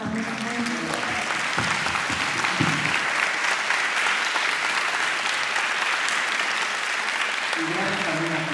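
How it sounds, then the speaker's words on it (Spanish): Audience applause at a Mexican film festival panel, a steady broad wash of clapping that runs the whole time at an even level, with a few voices briefly audible near the start and end. "Un aplauso."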